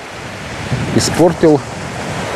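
Steady south wind on a beach in Anapa rushes and buffets over the microphone with surf-like roaring throughout, while someone speaks briefly in the middle.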